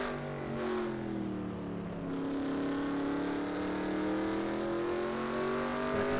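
Race cars in a racing game at Portland accelerate down the front straightaway, a loud continuous engine drone with rising harmonic whine as they build speed, several cars layered together close by.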